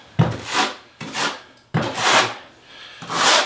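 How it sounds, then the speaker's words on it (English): A trowel spreads mortar over a Tile Redi pebble shower pan with a linear drain, four smooth scraping strokes in an uneven rhythm, close and fairly soft, with no talk. "The trowel just kind of glides on it."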